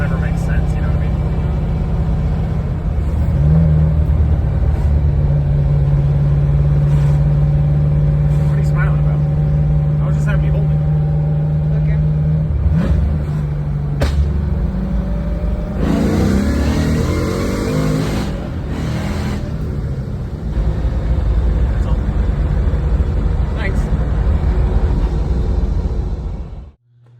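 Chevrolet Nova engine revving through the gears on a tuned setup, a loud sustained drone that holds, shifts pitch and surges again over most of the stretch before cutting off abruptly.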